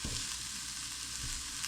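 Garlic and aromatics sweat in a hot pan for a Vietnamese meat pie filling, giving a steady, close, continuous sizzle with a faint soft stir near the start and no voices.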